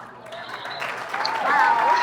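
A crowd applauds at the London Cobra car show, steady clapping that swells louder toward the end, with scattered whoops and voices mixed in.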